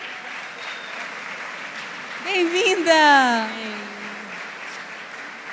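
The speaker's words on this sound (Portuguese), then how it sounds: "Vamos aplaudir a nossa querida Karine Rizardi." An audience at an evening family congress talk breaks into applause for someone speaker, steady clapping under a host's amplified voice that rises in a brief cheer.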